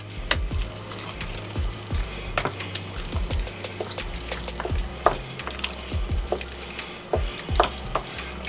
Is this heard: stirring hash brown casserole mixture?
yes